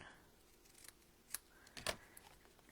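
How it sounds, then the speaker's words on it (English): Sharp scissor snips trim the thick ribbon tails on a handmade greeting card: a few quiet, separate cuts close by, with the last one standing out most clearly against a soft room background. "We'll just trim those tails down"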